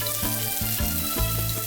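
Onions frying in a pan with ginger-garlic paste and red chili powder, a steady close sizzle with repeated bursts as the mixture is stirred, heard alone.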